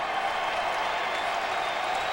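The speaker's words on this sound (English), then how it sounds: "Crowd still hungry. They're on their feet" A football stadium crowd at the 2009 Seahawks at Colts game roars in a dense, unbroken wall of cheering, loud and even throughout.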